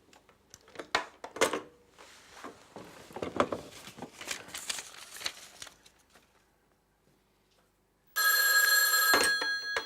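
A telephone bell rings loudly and steadily near the end, after a stretch of scattered clattering and handling noises, then a near-silent gap.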